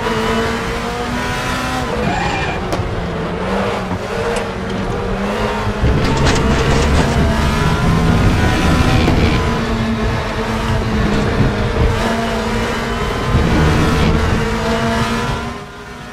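Race cars in the RaceRoom sim during the final lap of a career-mode race, with dense engine roar and high revving throughout. Tire squeal and shifting pitch come through over a steady loud mechanical drone, with no talk.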